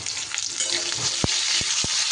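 Potato pieces seasoned with salt and turmeric sizzle steadily in a pan over medium flame, with a few sharp scraping clicks of stirring cutting through the continuous hiss.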